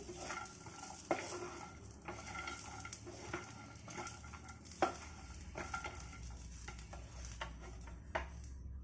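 Vada pav potato filling with grated coconut being stirred and roasted in a pan: a spatula scrapes and taps the pan in repeated strokes over a quiet sizzle, with no voices.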